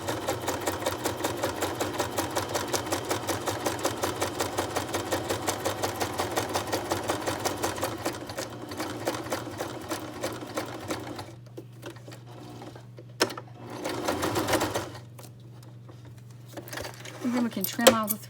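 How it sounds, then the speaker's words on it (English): Sewing machine stitching back stitches on a journal pouch, a fast steady mechanical whirr for several seconds that slows and stops, followed by fabric handling and a person talking. "I'm just going to add a few back stitches in, just so my stitches do not come out."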